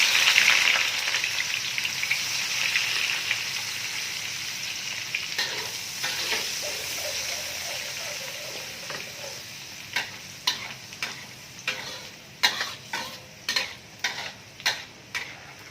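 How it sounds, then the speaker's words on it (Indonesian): Ikan bilis (anchovies) frying in hot oil for nasi lemak give a steady sizzle, then clicks and scrapes from stirring, with sharp pops growing more frequent toward the end. "Dan lanjut kita goreng untuk ikan bilisnya ya."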